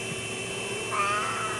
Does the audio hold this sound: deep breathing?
no